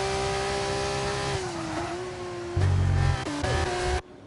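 Simulated race car engine in an F2 sim racing game at Imola, a loud, close harmonic whine that holds steady, dips briefly, then surges louder with lower rumble before cutting off abruptly near the end.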